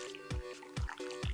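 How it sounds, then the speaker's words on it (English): Boiling water pours over four tomatoes in a bowl, making three or four close, distinct splashy drips and gurgles in quick succession with no one speaking. "now that I have the 4 tomatoes in, I will add boiling water"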